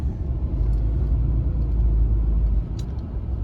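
Continuous low rumble of a truck rolling over a road surface, a steady near engine and tire drone without voices.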